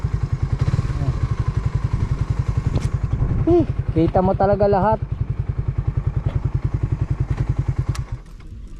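A motorcycle engine idles close by with a steady, rapid low thumping pulse that runs throughout and then cuts out near the end, while a person speaks briefly over it.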